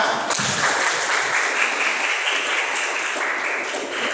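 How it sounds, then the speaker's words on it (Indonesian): A classroom of students bursts into sustained, dense applause for a classmate, steady and loud for several seconds with no voices over it. "Oke, tepuk tangan."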